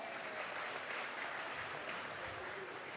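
Faint, dense applause from an audience at a Parents' Day gathering, a continuous soft wash of clapping heard from a distance.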